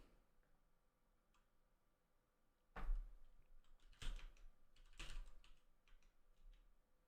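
Keystrokes on a computer keyboard used at a terminal, sparse and faint at first, then a few sharper, louder clacks in small bursts, near and with no talking.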